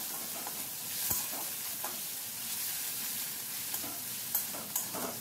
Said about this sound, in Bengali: মাছটাকে কম আঁচে বেশ কিছুক্ষণ এভাবে নাড়াচাড়া করছি।